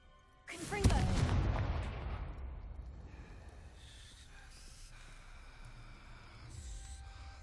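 An explosive Confringo spell cast in a video game: a sharp blast bursts out near the start and fades into a long rumbling decay, followed by softer ambient game sounds.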